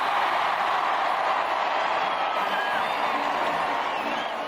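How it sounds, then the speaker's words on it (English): Thousands of people packed into a square at a royal wedding roar and cheer, a dense, steady wall of distant crowd noise that holds level throughout. "Again, the crowd roared its request."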